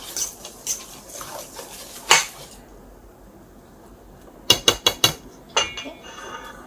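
A utensil stirring pineapple cake batter in a bowl: scattered clinks and scrapes, then a quick run of sharp metallic taps against the bowl rim, close and clear, with no talk.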